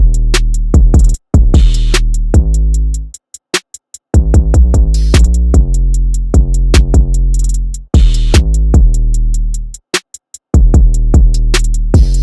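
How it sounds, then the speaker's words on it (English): Hip-hop drum beat with booming 808 kick, snare and crisp hi-hats in a steady pattern, loud and up front, with a couple of brief dropouts and no talk. "that's pretty much it for the drums, and they sound like this."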